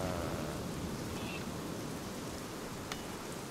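Steady rain in the Viking strategy video game Northgard, a broad continuous hiss of falling water with a faint rumble beneath, unbroken and even throughout.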